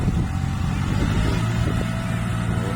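A Kubota L3608 tractor grading and pressing down soil at a dirt-filling site runs with a loud, close, steady engine drone and slight changes in load.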